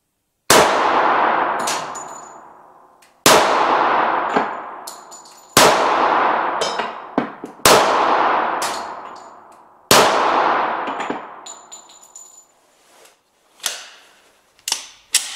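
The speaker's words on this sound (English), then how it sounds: "let's start with 5 rounds, and with the first 5 rounds I want to show you how controllable the recoil is" Five sharp, loud gunshots from a Smith & Wesson M&P 40 full-size pistol, fired one at a time at a slow, even pace. Each crack rings out and decays, and small metallic clinks of ejected brass follow the shots.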